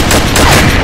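Rapid bursts of M14 rifle fire in the Combat Arms video game, a dense, loud volley of overlapping shots filling the whole short moment.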